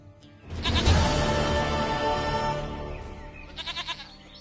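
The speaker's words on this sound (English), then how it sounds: "Goat of mine, dearest, sweetest goat." A goat in The Witcher 3 lets out a loud, drawn-out bleat that fills most of the clip, followed by a shorter, quavering bleat near the end, with no talking over it.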